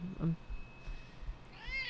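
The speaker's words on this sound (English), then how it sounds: "Look at this cat." A cat gives a short meow near the end, a faint, rising cry heard after a brief low vocal sound at the start, over quiet room noise.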